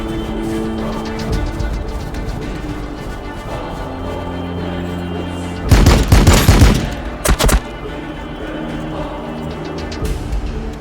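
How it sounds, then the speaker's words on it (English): Gunfire and fire support in the Warhammer 40k: Battlesector strategy game, with a loud burst of rapid shots in the middle and a second shorter volley soon after, over a steady low battle drone and no talking. "Plasma fire support ready."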